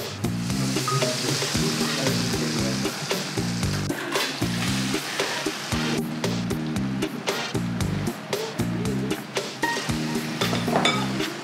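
Food frying in a pan in a home kitchen, a steady close sizzle with occasional utensil clinks, set against a tonal musical backing and no speech.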